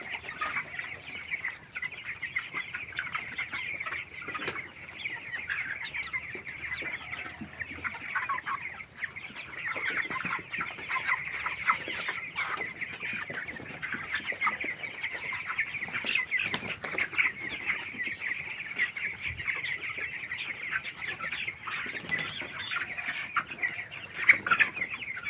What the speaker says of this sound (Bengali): আজকে 17 দিন বয়স ব্রয়লার মুরগি